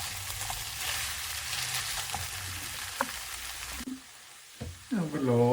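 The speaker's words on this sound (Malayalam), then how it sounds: "എന്നിട്ട് ഇത് രണ്ടും കൂടെ ആഡ് ചെയ്ത് നന്നായിട്ട് ഇളക്കി യോജിപ്പിക്കുക" Chicken thoran sizzles in a pan as it is stirred and mixed, a steady close frying hiss with light scraping taps, before the sizzle cuts away and a voice briefly speaks.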